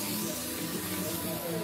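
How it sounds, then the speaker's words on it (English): A clear acrylic coat sprayed from an aerosol can onto a computer case side panel produces a steady, close hiss that holds evenly for the whole short burst. "You just take a clear acrylic and you just go ahead and spray that"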